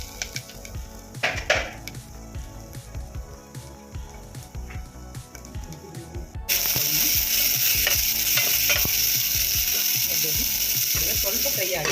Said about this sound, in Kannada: ಫ್ರೈ ಆಗ್ತಾ ಇದೆ ನೋಡಿ, ಫ್ರೈ ಆಗ್ತಾ ಇದೆ.